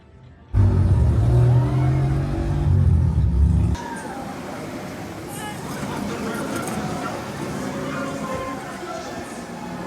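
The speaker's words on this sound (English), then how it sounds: "It's time to go ride Hagrid's Magical Creatures motorbike adventure." Hagrid's Magical Creatures Motorbike Adventure roller coaster at Universal's Wizarding World of Harry Potter: a loud deep launch rumble gives way to a steady broadband rush of the ride, with voices talking throughout.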